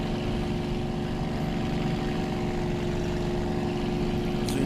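Aircraft engine at full throttle in the World Flight simulator game, a steady, loud, unbroken drone lasting throughout with no talking.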